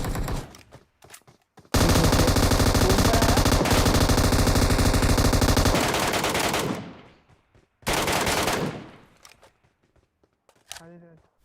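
Gunfire in the PUBG Mobile video game, with a long sustained automatic burst followed by a second shorter burst and a few scattered shots, loud and close.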